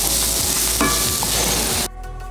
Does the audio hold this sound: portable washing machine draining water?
no